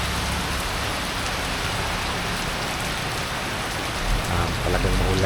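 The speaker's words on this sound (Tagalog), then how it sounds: "At dito sa amin sa Manolo ay medyo lumalakas na yung ulan" Heavy typhoon rain in Manolo pours in a dense, loud, unbroken hiss of drops on surfaces nearby, with low rumbling undertones swelling near the end.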